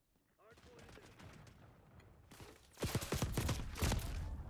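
Gunfire in a Black Ops 6 Hardpoint match: a few light, scattered shots at first, then a much louder, close burst of rapid automatic fire over the final seconds.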